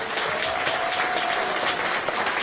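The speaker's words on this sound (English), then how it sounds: "You all give a big round of applause" Sustained applause from an awards-ceremony audience at a criminal justice honors event, steady and dense clapping filling the room for the whole stretch.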